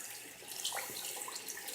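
Water from a faucet runs while makeup brushes are rinsed, a soft, steady splashing and trickling heard close but faint for under two seconds.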